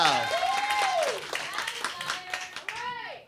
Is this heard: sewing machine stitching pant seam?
no